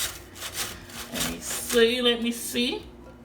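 Vegetables rubbed against a hand grater for Jamaican-style coleslaw make rhythmic scraping strokes, close and moderate in volume, with a voice briefly heard partway through.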